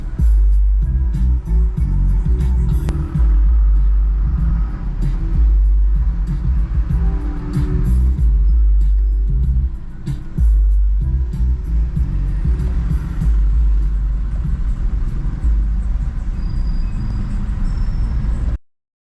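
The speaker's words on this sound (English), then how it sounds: "So we're driving there." Steady car engine and road rumble during a road trip to Embu, loud and continuous low drone throughout with no talking, cutting off at the very end.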